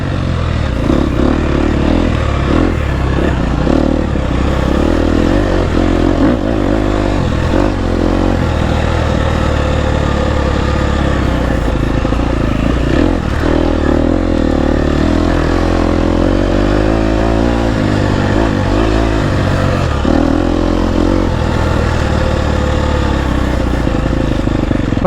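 A GasGas EX250F dirt bike, fitted with an aftermarket ECU, revs hard while being ridden. The engine snarls loud and close without a break, rising and falling with throttle changes, and no one speaks.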